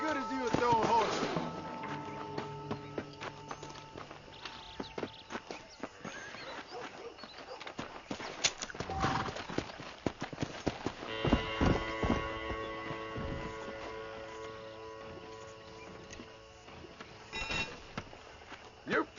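Hoofbeats clatter in Red Dead Redemption, irregular and mid-distance, mixed with tonal game sound effects and occasional thumps.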